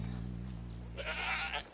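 A baby goat lets out a short, thin bleat that lasts under a second, following a low droning sound with no other voices.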